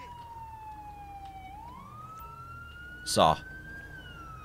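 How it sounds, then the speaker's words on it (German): A police car siren in GTA V wails steadily under the scene, gliding between pitches, while someone speaks briefly and a short loud burst cuts in near the end. "wir machen die Sirene aus"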